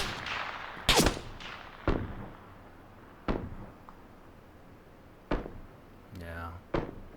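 Gunfire in a PUBG-style battle royale video game, several sharp single cracks spaced a second or more apart, fairly faint over a quiet background.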